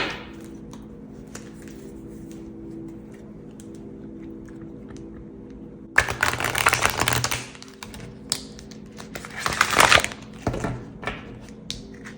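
Tarot cards are shuffled in two brisk bursts of riffling and flapping, separated by quieter handling and faint room noise.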